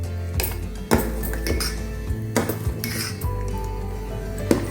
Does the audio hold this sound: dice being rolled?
no